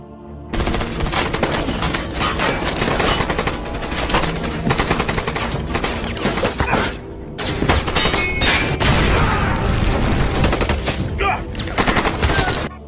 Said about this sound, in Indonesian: Vance terlibat baku tembak sengit dengan mereka